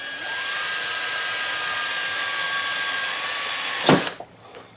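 A power drill with a drill bit whines at a steady high pitch for about four seconds, close and loud, then cuts off with a sharp clunk and fades into a quieter rattle.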